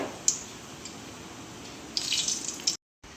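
Okra hits hot oil in a pan with a soft, watery hiss, swelling into a louder crackling burst with a few sharp pops near the end before the sound abruptly cuts out.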